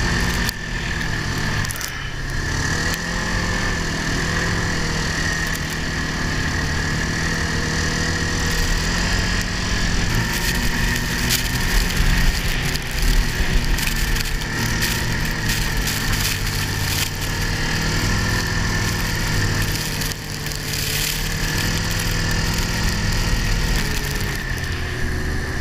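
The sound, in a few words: skidoo snowmobile engine riding through deep powder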